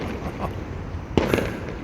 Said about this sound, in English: Fireworks around.